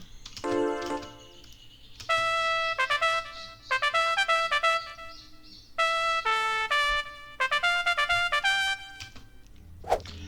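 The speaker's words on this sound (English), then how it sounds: "Now for the trumpet lead, I use this sound" A bright synthesized trumpet plays a lead melody in short punchy phrases separated by brief gaps, loud and upfront with no voices.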